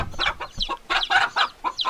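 A chicken clucks in a quick run of short, repeated calls, close and fairly loud, with brief gaps between bursts and no talking.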